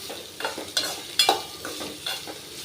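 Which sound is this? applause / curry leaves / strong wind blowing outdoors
curry leaves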